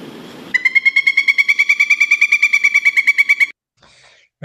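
A pileated woodpecker in New Hampshire gives its piping call: a rapid, even series of about twenty loud, clear, whistled notes, close and alone. A brief pause follows, then fainter sounds.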